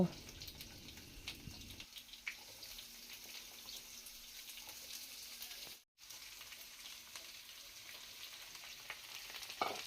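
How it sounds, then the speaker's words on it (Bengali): Green chilies and cut radish fry in hot oil in a pan, a steady, fairly faint crackling sizzle that runs the whole time and softens after the first couple of seconds, briefly cut off once. "তেল গরম হয়ে গেছে প্রথমে আমি কাঁচা লঙ্কাটা দিয়ে একটু ভেজে নেব এবারে কেটে রাখা মূলোগুলো দিয়ে দেব"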